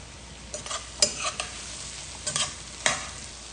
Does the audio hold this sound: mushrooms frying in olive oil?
yes